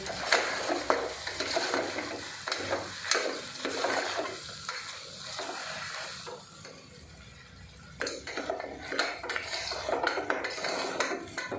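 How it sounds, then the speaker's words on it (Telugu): Spoon scraping and stirring curry in a pot, with chili powder and coconut frying in oil, steady rhythmic clinks and a wet sizzle, fairly close, no talking. "నేనైతే ఒకసారి కలుపుకుంటున్నా"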